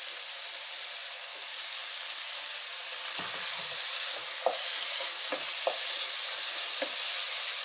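Diced potato sizzling steadily in hot oil in a pan for vegetable rice, with a spatula stirring and scraping in several sharp, close strokes over a constant frying hiss.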